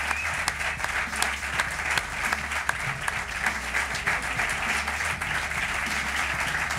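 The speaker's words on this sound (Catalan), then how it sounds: "Vaya ovació" A live podcast audience at Casa Gràcia in Barcelona breaks into a loud ovation for an arriving guest, dense continuous clapping close and full, with a few voices mixed in.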